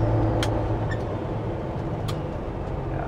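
A semi-truck's diesel engine rumbles steadily and close by, a deep throbbing drone through downshifts with the Jake brake, with faint higher clicks and whines above it.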